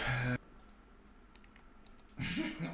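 Soft, rapid keyboard clicks tap away quietly in a pause between bursts of nearby talking.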